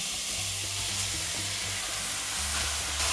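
Minced meat, onion, carrot and celery sizzle steadily in a pan for spaghetti bolognese, a loud continuous frying hiss with soft scraping of stirring underneath and no talking.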